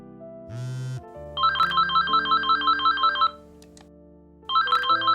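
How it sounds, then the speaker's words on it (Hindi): A phone ringtone plays a repeating electronic melody, loud and close, pausing briefly before starting again; no one speaks. "ये लो, आ गया तुम्हारे पापा का फोन"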